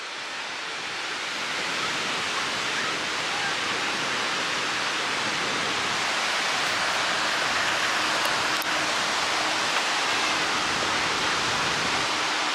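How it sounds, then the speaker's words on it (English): Waves roll in at Ardmore Beach on Lake Michigan in Chicago, a steady broad wash of surf that builds slightly and stays constant, with no voices. "You can see the waves"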